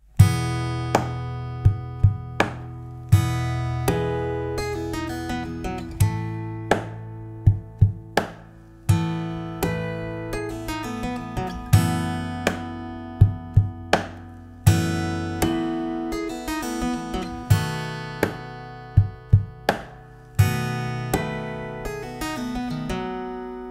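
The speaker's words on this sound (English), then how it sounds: "We start with a slap, snare, kick, kick, snare, then slap again" Percussive acoustic guitar exercise: a palm slap, snare-like body hits and deep kick thumps on the guitar body, mixed with ringing strummed chords in a steady repeating groove, close and clear with no talking.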